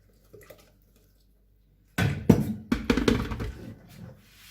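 Water is poured into a bowl for low-fat pancake batter in a home kitchen, a short splashing pour with a few clinks of dishes, alone and close.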